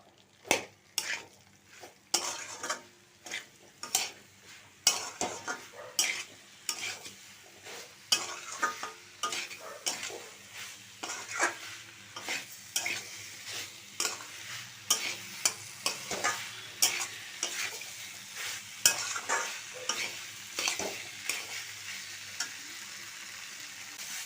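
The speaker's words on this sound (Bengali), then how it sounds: "ভালো করে কষিয়ে নেবো" Kohlrabi and potato curry being sautéed in oil and spices in a pan, with steady sizzling under repeated scraping strokes of a spatula against the metal, sharp clicks and scrapes recurring in an uneven rhythm close up.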